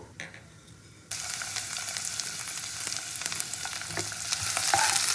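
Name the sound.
chopped onion frying in oil with nigella seeds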